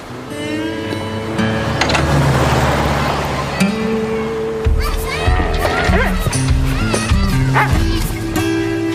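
A dog barks loudly in repeated bursts, yips and whimpers up close while people talk over it.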